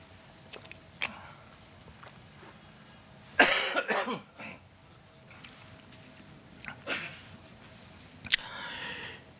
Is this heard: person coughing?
yes